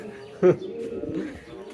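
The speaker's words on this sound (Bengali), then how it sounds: "এই যে আমাদের নতুন ময়ূর কবুতরটা" Fantail pigeons in a loft give a short, close, burbling coo, one sharper call standing out early, followed by softer low murmuring.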